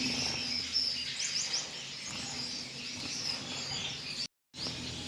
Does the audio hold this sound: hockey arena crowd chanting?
no